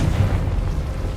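Fire spell explosion in Hogwarts Legacy: a deep, rumbling blast with low-end boom that fills a brief moment, loud and close, with no talk.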